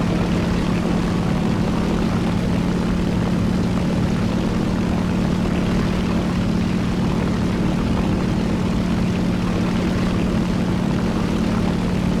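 A propeller fighter plane engine in the War Thunder video game drones loudly and steadily throughout, a continuous heavy hum with no speech over it.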